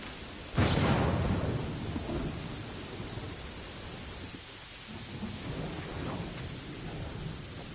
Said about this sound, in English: Oh, thank goodness, it's no longer raining.